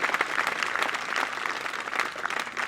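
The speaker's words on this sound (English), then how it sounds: "you guys can clap for that too." An audience at an 8th grade middle school graduation claps together, a lively, uneven patter of many hands that carries on steadily across the whole stretch.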